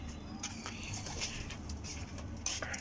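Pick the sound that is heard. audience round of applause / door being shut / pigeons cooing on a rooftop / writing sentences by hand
pigeons cooing on a rooftop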